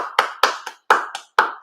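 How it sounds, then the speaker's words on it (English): Seven sharp, close hand claps in an uneven rhythm, crisp and solo, with brief silent gaps between them. "Let's clap it up for Derek Barnett."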